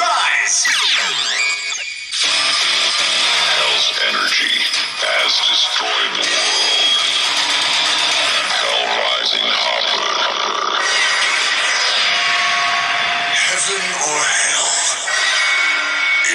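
Kamen Rider Hell Rising transformation sound card toy plays a loud, busy electronic sequence of roaring synth effects, growling voice-like sounds and chaotic layered tones lasting about fifteen seconds with a brief gap near the start.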